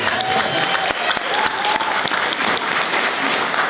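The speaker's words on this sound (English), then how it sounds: "And feel free to clap. I love clapping." Loud, dense audience applause at a motivational success talk, steady clapping from a crowd with a few sharper individual claps standing out, continuing for the whole few seconds without speech.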